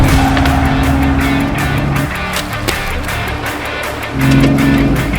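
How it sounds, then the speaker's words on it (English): An off-road vehicle crawling over mountain terrain in two-wheel drive, its engine loud and close with a steady drone that dips and then surges again near the end, with no talking. "here's how to wheel in two-wheel drive."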